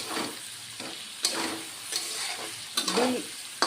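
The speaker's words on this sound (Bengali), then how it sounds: "আধা চামচ কাশ্মীর লঙ্কার গুঁড়ো দিয়ে দিলাম দিয়ে এখন কষিয়ে নিব" A spatula scrapes and stirs coriander powder and Kashmiri chili powder frying in a pan for a potato-papaya dalna, making rhythmic strokes every half second or so over a soft, close sizzle, with no one talking.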